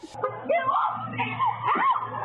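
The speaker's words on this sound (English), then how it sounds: "With this young woman's screams piercing the air" A teenage store employee screams while a man tries to push her into a stolen pickup truck in St. Augustine, Florida, giving loud, shrill cries mixed with other voices for a couple of seconds.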